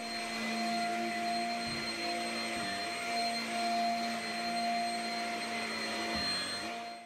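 A Shark Rocket True Pet stick vacuum runs with a steady motor whine and airflow hiss, close and continuous, with a few soft bumps as the head moves across the floor.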